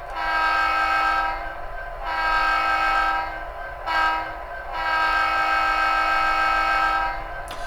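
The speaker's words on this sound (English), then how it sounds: "you can hear the grade crossing sound" Model-train grade crossing horn from a SoundTraxx sound decoder, triggered on function 9: repeated sustained horn blasts in a long-short-long pattern, loud and close, with no talking over it.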